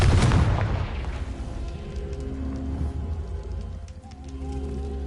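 A Confringo blasting spell goes off in Hogwarts Legacy as one loud boom at the start, then a rumbling, crackling tail that slowly fades under the ongoing game ambience.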